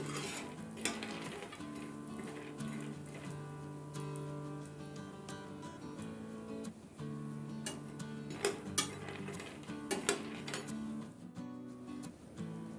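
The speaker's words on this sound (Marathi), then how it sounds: "शेंगदाणे भाजताना मिडियम गॅसवरतीच भाजायचे" Peanuts dry-roast in a pan over a medium gas flame, with soft scraping and stirring, light clinks of a utensil against the pan and a faint steady hum throughout, fairly quiet.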